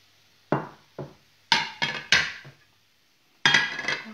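Vegetables being stirred in a pan with a utensil: sharp scraping clinks in short bursts, several strokes in a row, close and fairly loud, then a pause and another burst.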